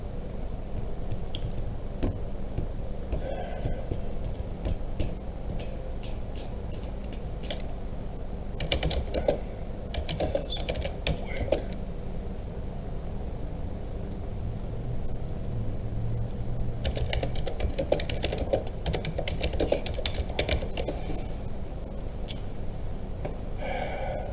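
Someone types on a computer keyboard in bursts of rapid clicking, separated by pauses, close and moderately loud over a low background hum.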